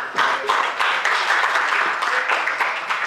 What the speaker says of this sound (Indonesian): Tepuk tangan buat Kabupaten Pasir